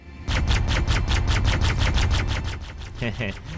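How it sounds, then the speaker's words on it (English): Repeating cannons fire in Halo, a fast, loud string of evenly spaced shots with a slight echo that runs for about three seconds before stopping, followed by a few quicker bursts. "the repeating cannons have a habit of spreading out and missing my target"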